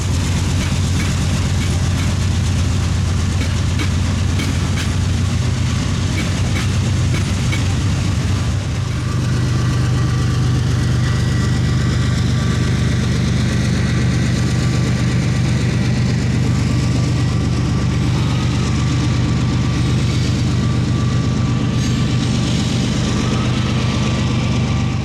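Freight rock train rumbling through Wilson's Alley in Shreveport, a loud, continuous close pass with steady engine drone and rolling wheel noise throughout, no talk.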